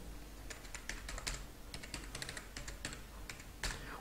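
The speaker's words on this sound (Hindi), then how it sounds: "मैं यहाँ पे जीएसटी नंबर टाइप करता हूँ" Quick, irregular keystrokes on a computer keyboard as a GST number is entered, a run of close, light clicks with brief pauses and no talk.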